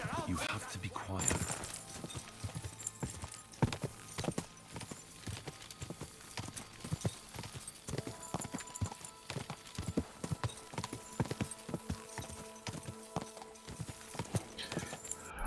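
Horse hooves clip-clopping in the video game Kingdom Come: Deliverance II, a steady walking rhythm of close, distinct hoof strikes that carries on throughout, with faint ambient background beneath.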